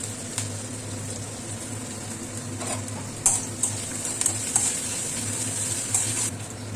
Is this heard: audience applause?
no